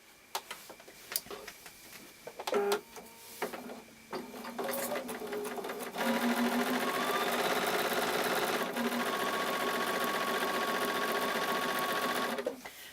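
A sewing machine stitches quilt block fabric a quarter inch from the edge, with a few clicks and short bursts of handling at first, then a loud, continuous rapid mechanical whir for the last several seconds, close up.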